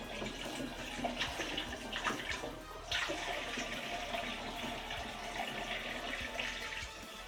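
Cool water pours steadily into a vessel of warm must for a peanut butter and jelly mead, a continuous moderate rushing and splashing close by with no talk over it.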